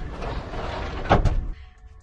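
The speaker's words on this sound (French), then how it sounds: "On va fermer la porte." The door of a capsule hotel pod in Singapore slides shut with a couple of close thuds over a steady room hum, after which the space goes noticeably quieter.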